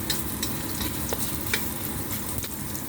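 Garlic and ginger sauté in a pan for chicken tinola, with steady close sizzling and frying hiss broken by light scraping clicks of stirring throughout.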